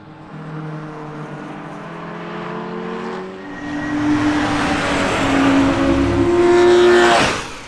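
Race car driving on a track, its engine droning at mid distance then rising louder and higher as it draws closer and revs, ending in a swelling pass.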